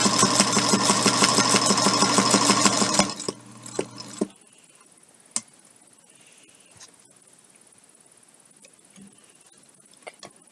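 A home sewing machine stitches steadily and loudly for about three seconds, then stops, followed by a few soft clicks and handling sounds while stitching a DIY fabric bowl holder.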